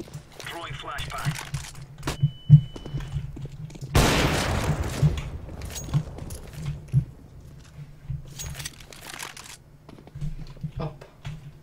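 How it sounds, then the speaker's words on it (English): A flashbang grenade in the game Counter-Strike goes off with one sharp, loud, broadband burst that decays over about a second, surrounded by quieter game noises and players talking. "Throwing flashbang."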